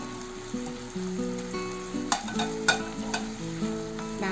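Fried chicken pieces are stirred in a sizzling pan for chilli chicken, with a close, steady frying hiss and several sharp scraping clatters from the spoon partway through.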